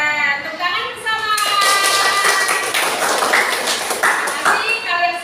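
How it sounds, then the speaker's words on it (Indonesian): A class of students claps together in a classroom, a loud burst of many hands in the middle of the clip, with a teacher's voice speaking before and after the clapping. "Tepuk tangan bersama."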